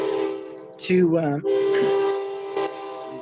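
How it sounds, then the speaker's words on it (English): A passing train sounds its horn in long, loud sustained blasts, briefly broken by a rising voice, heard during an outdoor virtual meeting. "got the train again."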